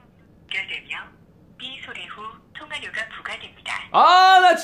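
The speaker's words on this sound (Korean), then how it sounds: "지민이 전화 연결 갑시다." A telephone call connecting produces a loud electronic ringing tone that starts abruptly near the end, following a few seconds of people talking.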